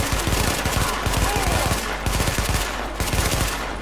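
Rapid automatic gunfire bursts in The Division, a dense run of sharp shots repeating across the whole stretch with short breaks between volleys, loud and close in a busy combat mix.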